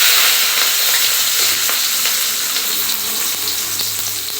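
Chopped onion and green chili frying loudly in hot oil with mustard seeds in a pan for tomato thokku, a dense close sizzle that eases slightly, with faint stirring clicks.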